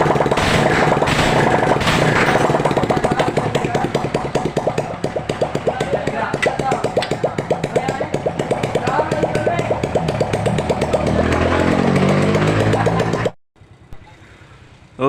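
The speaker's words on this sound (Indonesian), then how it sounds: "kemudian kita panasin dulu motornya biar inrayan" A Honda Revo motorcycle engine idles loudly and steadily while warming up with a fitted exhaust, a continuous close-up chug running for about thirteen seconds before cutting off abruptly.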